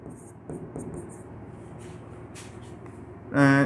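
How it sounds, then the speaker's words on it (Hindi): Marker or chalk strokes writing a line on a classroom board during a biology lecture, a series of short scratchy strokes at moderate distance, with a louder burst near the end. "यहाँ पर अपन एक लाइन लिखते हैं"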